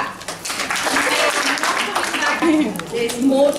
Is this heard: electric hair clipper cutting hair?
no